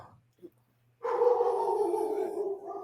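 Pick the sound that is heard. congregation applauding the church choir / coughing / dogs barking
dogs barking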